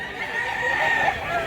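A rooster crows nearby at a Cebu farm where fighting cocks are shown, a strained, wavering call filling the short moment without talk.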